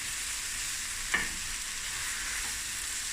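Deveined prawns frying in a pan, a continuous bright sizzle at an even level with a single sharp knock of a utensil partway through.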